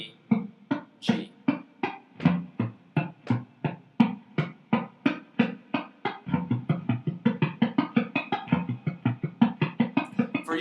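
Muted guitar strings plucked with hybrid picking in an even rhythm, dozens of short percussive clicks that speed into a quicker, denser pattern partway through, close and fairly quiet.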